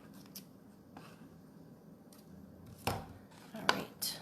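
Scissors snip through ribbon being trimmed for a bow, a few quiet, short cuts near the end over a faint, hushed room background.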